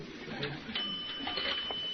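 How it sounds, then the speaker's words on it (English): Dime chime of a coin telephone in a phone booth, from a 1945 radio comedy: a single bright ringing tone sets in partway through and holds steady over a hissy, noisy background. "Now, let's hear the dime chime."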